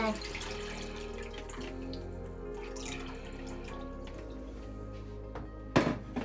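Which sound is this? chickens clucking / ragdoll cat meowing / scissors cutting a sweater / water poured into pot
water poured into pot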